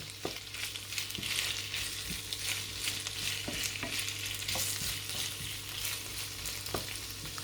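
Beetroot for borscht being lightly cooked and stirred in a pan gives a steady soft sizzle, with repeated scrapes and clicks of the spoon against the pan at an uneven rhythm, close and moderately quiet.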